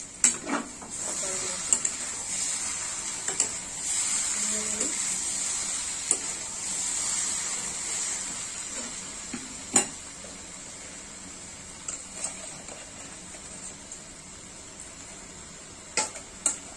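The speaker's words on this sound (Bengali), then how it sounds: "এবার মাছের মাথা দেবো।" Fish head sizzling in a pan of cabbage curry, a steady faint frying hiss throughout, punctuated by scattered clinks and scrapes of a spoon stirring against the pan.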